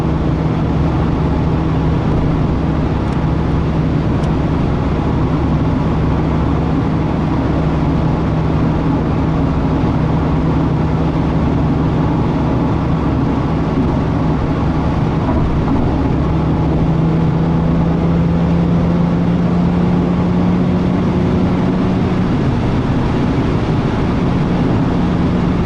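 A Nissan 300ZX Twin Turbo drives under boost, making a loud, constant engine drone heard from inside the car. A tone slowly climbs in pitch toward the end, and no one speaks.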